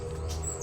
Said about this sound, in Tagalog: May mga ibon dito sa ibabaw ng puno. Kadapo. May mga huni sila.